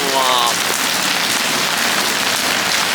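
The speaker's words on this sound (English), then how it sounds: "I think it's like raining a lot" Heavy rain in Manila pours down in a dense, loud, unbroken roar of drops drumming on surfaces close by.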